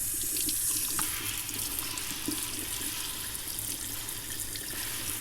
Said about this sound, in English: Do one more rinse on these.